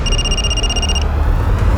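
A telephone rings indoors in a tense crime drama, a bright electronic trill that runs steadily for about a second and then cuts off, leaving only a low room hum.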